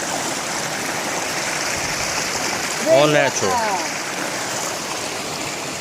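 Steady, broad rushing water from a rainforest stream and small waterfall in Adjuntas, Puerto Rico, heard up close while a person briefly speaks over it.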